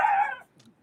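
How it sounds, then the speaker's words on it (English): A dog gives one sharp, loud bark close by, which fades quickly into quiet. "The dogs are upset,"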